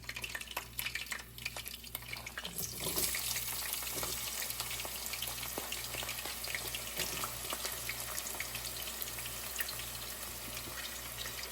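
Onions fry in a pan for a cabbage, potato and tomato curry, producing a steady, moderately quiet sizzle with a faint hum beneath, and no one speaks.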